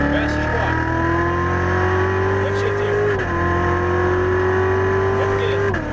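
A Chevrolet Corvette Z06 Stingray accelerates hard on a race track, its engine note climbing steadily in pitch, dropping at a quick upshift and rising again, loud and close throughout while an instructor talks over it.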